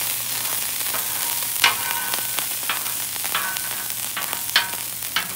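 Butter frying in a pan on a home breakfast stove, a steady close hiss of sizzling with a few sharper crackles and pops scattered through, no talking.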